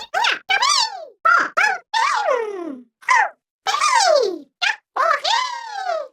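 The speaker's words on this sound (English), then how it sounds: "he was given a variety of new voice clips." Nabbit, the purple rabbit-like thief from New Super Mario Bros. U Deluxe, gives a run of short, high, expressive cartoon vocal clips: chirps, squeals and bouncy exclamations separated by brief silences, close and fairly loud.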